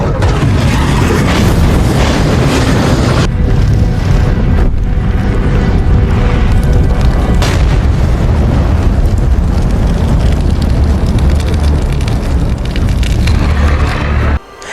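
Drogon's dragon fire blast from Game of Thrones, a loud, sustained roaring whoosh of flame with deep rumbling booms, continuous and dense throughout before cutting off abruptly at the end.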